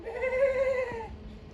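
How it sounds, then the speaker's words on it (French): A single drawn-out goat bleat outside a Decathlon store, clear and fairly close, lasting about a second before fading into quiet background noise. "Et là il y a des chèvres."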